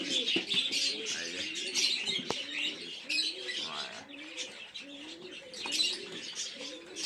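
Chatiyal and Giribaz pigeons, males among them, coo in repeated low throaty rolls while smaller birds chirp steadily above, with a brief wing flap, close and continuous without talk.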